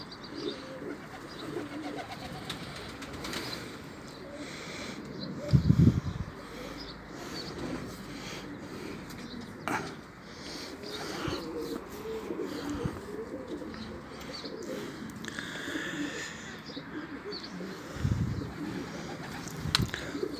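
A pigeon or dove that had been sick, nursed back to health and released onto a roof coos softly and intermittently amid quiet outdoor background noise, with a brief louder burst partway through.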